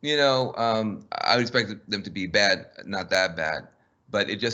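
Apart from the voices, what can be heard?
No everyday noises stand out.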